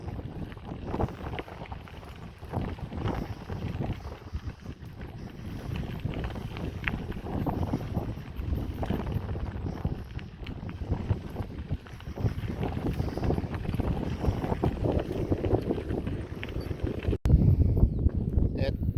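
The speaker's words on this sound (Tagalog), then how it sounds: "Hangin." Steady wind in New Zealand buffets the microphone with a continuous rushing noise throughout, growing rougher near the end.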